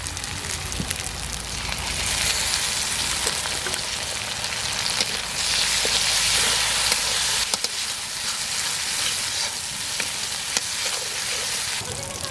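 Dried chili paste and tomato paste hiss and sizzle steadily in a hot pan with onion, garlic and ginger for a village-style katla fish curry, a close, continuous fry with occasional stirring scrapes and no speech.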